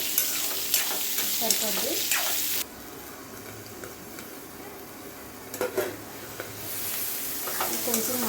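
Cucumber pieces for a roti chutney fry in a pan with a crackling sizzle, broken by scraping and stirring clatter, and a brief spoken word over the cooking.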